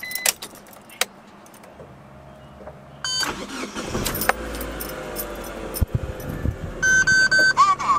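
Mitsubishi Evo being started: keys jangle, then the engine cranks and catches around three seconds in and settles into a running idle, followed by electronic chimes and beeps from the car's systems.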